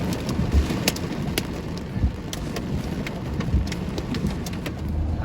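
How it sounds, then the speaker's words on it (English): Steady, dense rain from a squall line pours down with a constant hiss and scattered sharp drops, loud and close, with no voices. "heavy rain just went here"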